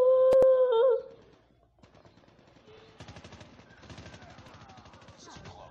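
Gunfire in the mobile shooter Call of Duty Mobile, a shotgun among the weapons, arrives as a fast rattling burst of shots under game music and effects after a brief tonal jingle, moderately loud and close.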